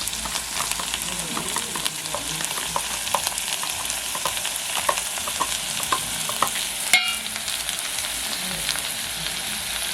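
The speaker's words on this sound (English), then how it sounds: "So I had my omena to the cooking oil plus onions." Small omena fish fry with onions in cooking oil, giving a close, steady sizzle laced with repeated scraping stirs and light clicks throughout.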